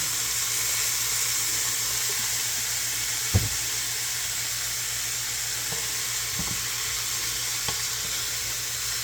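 Beef and cabbage fry in a skillet with a steady, loud sizzle as soy sauce and Worcestershire go in, punctuated by a few clanks of a utensil against the pan.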